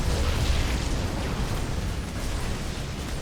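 A deep, rumbling grenade blast from the StarCraft 2 campaign rolls on loudly and continuously, with heavy low-end boom and debris-like texture and no voices over it.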